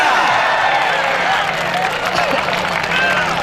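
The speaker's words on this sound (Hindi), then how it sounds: "लौरिया वास्ते भी जोरदार तालियां" Crowd at a kabaddi match cheering and applauding, loud and continuous with dense clapping and shouts filling the whole stretch.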